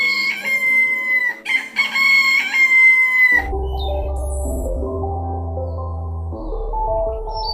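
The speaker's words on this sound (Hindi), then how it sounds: "ये कहकर मुर्गा एक टीले पर चढ़ा और बांग देने लगा।" A cartoon rooster in an animated bedtime story crows loudly from atop a mound, one long harmonic cock-a-doodle-doo lasting about three seconds, then it cuts to sustained background music.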